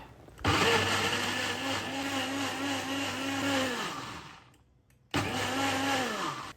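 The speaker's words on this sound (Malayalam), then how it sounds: "ഇനി ഇത് നമുക്ക് ജ്യൂസറിൽ ജ്യൂസ് അടിച്ചിട്ട് വരാം" A loud electric juicer motor whirs steadily for several seconds as papaya is juiced, winds down, then starts up again after a short pause.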